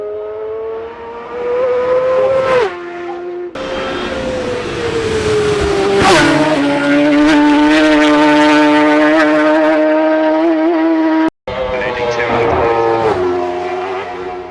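Isle of Man TT race motorcycle blasting over a crest at high speed, its engine howling loudly with rising and falling pitch as it wheelies and lands unsettled; continuous close roar with a brief cut, under some talk.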